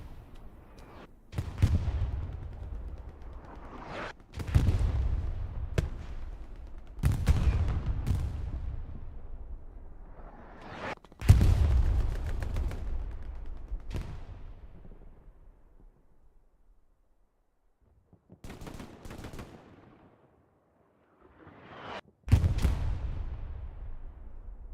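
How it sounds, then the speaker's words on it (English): Artillery shells and grenades explode in a Hell Let Loose match, several loud booming blasts with long rumbling tails at irregular intervals and a quiet gap between them. "Lots of grenades going down, lots of artillery shell landing, and a lot of action here into this match."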